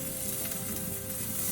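Butter sizzling on a reverse-seared tomahawk steak cooking on a Big Green Egg grill, a dense, continuous close-up hiss at steady loudness with no voices.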